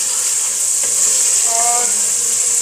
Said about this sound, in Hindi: देखिए इसने ऑयल छोड़ दिया है अपना, इसकी भुनाई हो रही है इस टाइम।